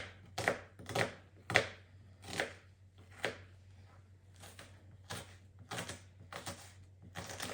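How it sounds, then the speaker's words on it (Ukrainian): A knife rapidly dices an onion on a cutting board, a quick run of sharp thuds in uneven bursts, close by, over a faint low hum. "Тепер одну цибулину середнього розміру нарізаю міленько кубиком, як на зажарочку."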